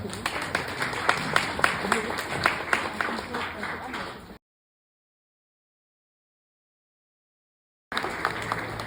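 Applause from wedding guests at a ceremony, steady dense clapping for about four seconds, then a gap of silence before the clapping briefly resumes.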